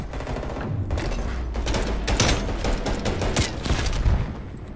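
Rapid gunfire fills a Black Ops Cold War 2v2 Gunfight match, with dense overlapping bursts and booms that stay loud and close the whole time and never stop.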